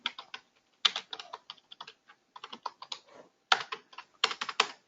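Someone types Java code on a computer keyboard, a steady run of crisp close keystroke clicks in uneven bursts and short pauses, with no speech.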